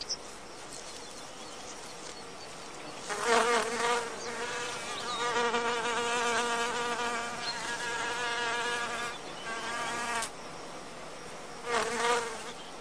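A male wasp buzzes around an orchid, its wings giving a close, loud droning whine that rises in several bursts and fades between them, with no voices.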